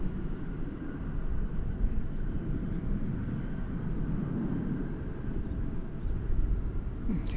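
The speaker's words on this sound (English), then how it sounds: "And there goes the flight to Santa Ana." Airplane passing at DFW Airport, a steady broad engine roar that holds fairly even for several seconds, moderately distant with no talk over it.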